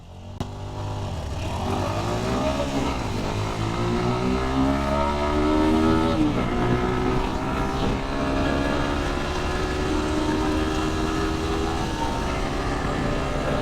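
Motorcycles, a 4V and a GPX Demon, accelerate hard in a 0-100 race, engines roaring loud and close with rising, shifting whine as they climb through the gears, steady throughout.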